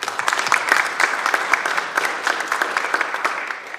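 Applause from an audience at a college retirement and staff recognition event, a steady patter of many hands clapping at moderate volume for nearly four seconds with no voices over it.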